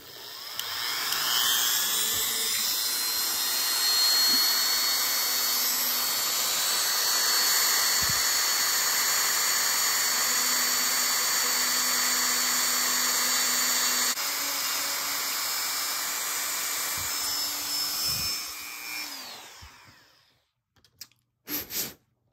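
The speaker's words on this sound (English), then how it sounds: "I'm going to carefully drill a hole into both of these hands that's big enough to accept that peg" Dremel rotary tool drilling a hole into a figure's hand, a high, steady whine running close and loud for about twenty seconds with slight pitch shifts, then cutting off into a few short bursts.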